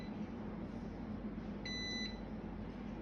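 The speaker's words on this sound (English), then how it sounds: "You will hear a beep and this light will get on." A Rubik RB50F biometric safe box gives one short electronic beep when its button is pressed, clear above a steady low hum.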